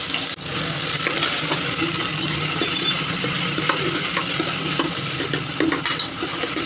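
Beef keema frying in hot oil in a Hyderabadi kitchen, a steady bright sizzle with the scrape and clink of a spoon stirring the mince in the pan, close and continuous.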